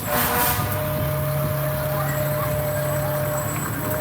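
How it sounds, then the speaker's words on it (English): A big fire department water tanker rolls past in a July 4th parade in Columbus, a steady, loud engine drone with a low rumble and faint high tones, slowly fading over a few seconds of outdoor crowd ambience. "You can hear the fire engine passing by."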